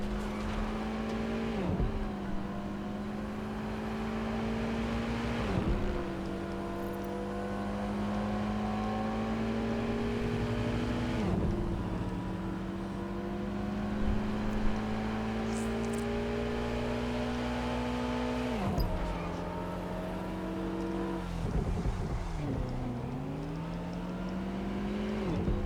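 A car in Watch Dogs Legion drives at speed, its engine droning steadily and climbing in pitch before dropping with each of several gear shifts, alone and close, with a brief tyre squeal near the end.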